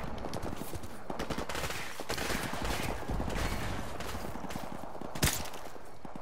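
Rapid bursts of automatic gunfire crackle through a Call of Duty Modern Warfare Remastered firefight, dense and continuous with one sharp louder shot near the end; no one speaks.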